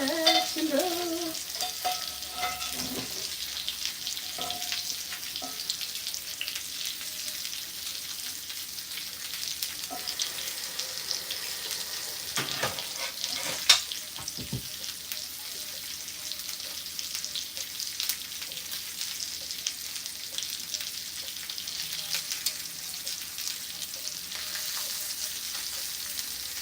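Stuffed salmon sizzles steadily in a frying pan, a continuous bright frying hiss with occasional utensil scrapes and one sharp clack partway through, close and fairly loud, no talking.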